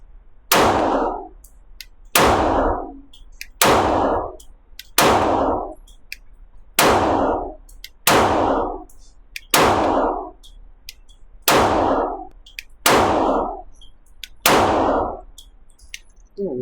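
Eleven loud, sharp gunshots from a Palmetto State Armory Rock 5.7x28 pistol ring out at an outdoor range, evenly paced about one and a half seconds apart, each with a metallic crack and short echoing tail, no talking.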